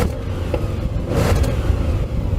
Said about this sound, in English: let's have a listen to this exhaust